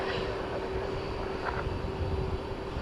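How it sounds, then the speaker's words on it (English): An airliner at DFW Airport at night passes overhead, a steady, continuous engine roar with a low rumble and no talking. "This one's going right over."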